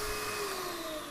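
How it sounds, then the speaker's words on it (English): A Numatic CT570 carpet extraction machine runs its pump with no water in it, giving a loud, steady whine with a constant tone over the vacuum motor's roar. "you'll hear a really quite loud sound. That means there's no water in the pump."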